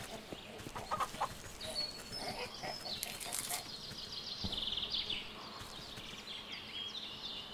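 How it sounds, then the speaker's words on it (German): In the Force of Nature video game, a chicken clucks with brief wing flaps against a dense, noisy ambient game background. "Ein Huhn."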